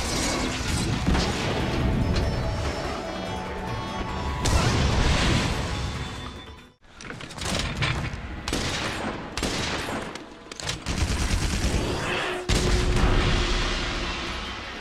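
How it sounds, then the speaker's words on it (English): Gunlance shells firing in Monster Hunter: World, a dense run of heavy booming blasts and metallic mechanical clanks, loud and close, broken by one brief near-silent gap before the barrage resumes. "its ability to fire off bone-breaking shells to blast a monster"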